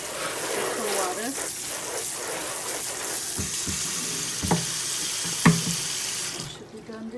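Cold water spraying onto the sides of a rice steamer while sticky rice is prepared, a steady broad hiss like a running tap lasting most of the stretch, with a few sharp knocks near the end before it cuts off.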